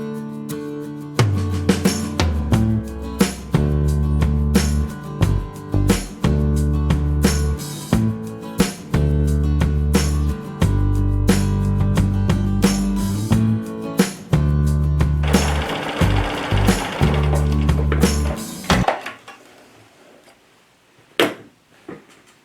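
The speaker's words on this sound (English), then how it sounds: "I'm going to go very slow, and I'm not going to be hard on my sewing machine" A sewing machine stitches thick fabric in bursts of rapid mechanical stitching, loud and close, pausing briefly between runs before stopping.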